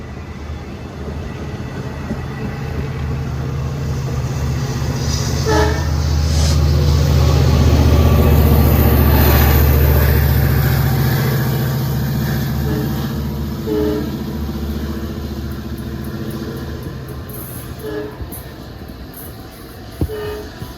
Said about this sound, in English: The unit shoving was engine 416, which has an equally bad horn.